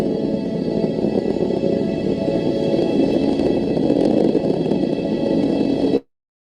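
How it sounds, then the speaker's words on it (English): Dense continuous roar of a rocket launch with solid rocket boosters throttling up, steady and loud throughout before cutting off abruptly at the end, with no talking. "Max Q. Boosters throttling up."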